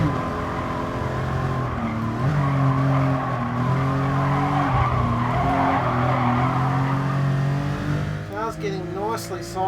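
A race car slides sideways in Gran Turismo Sport, its tyres squealing for several seconds over a loud, steady engine drone, with a sharper screech near the end.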